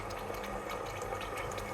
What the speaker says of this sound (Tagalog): lalagyan na natin ng tubig yan